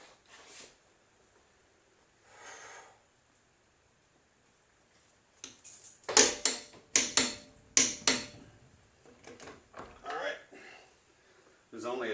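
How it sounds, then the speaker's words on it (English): Torque wrench tightening the axle nut on a 1999 Jeep Cherokee XJ to 175 foot-pounds, giving a run of sharp, loud clicks and ratcheting bursts up close after a quiet start, with brief talk around them. "we're getting ready to try to torque down that axle nut"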